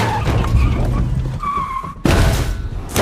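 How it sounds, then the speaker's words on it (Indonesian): A film car skids with a long squealing tire screech and rolls over, then a sudden loud crash and continued rumble follow, with no talking. "Dan akhirnya Julia pun mampu membuat mobil Areski terguling."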